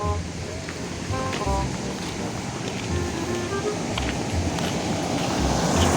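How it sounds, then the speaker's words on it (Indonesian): Strong wind blowing outdoors, a loud continuous broadband rush buffeting close to the microphone throughout, with faint scattered background sounds and no clear speech. "Angin gede aduh."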